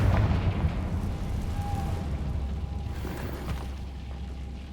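The Confringo explosion spell in the video game Hogwarts Legacy, a heavy booming blast at the start followed by a rumbling, crackling tail that slowly fades.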